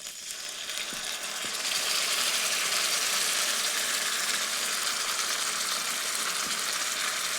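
Paste of cashew, melon seed and poppy seed frying in a pan, a dense, loud hiss that swells after the first second and holds steady, with a couple of faint utensil taps.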